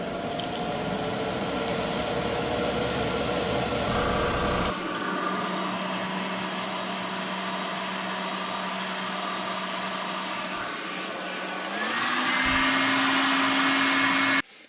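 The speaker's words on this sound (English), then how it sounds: "I need to turn the fan on" A steady electric fan whirs with a broadband rush, a low hum rising in pitch near the end as it speeds up, loud and close, no talking.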